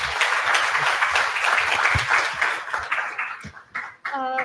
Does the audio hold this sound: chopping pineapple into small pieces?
no